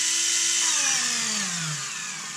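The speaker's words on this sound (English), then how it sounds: "if I get it going fast and then push it onto the wood with no screws" A Panasonic EY503 cordless screwdriver spinning fast and then pushed onto wood with no screw: a steady, close motor whine whose pitch sags steadily as the motor bogs down under load.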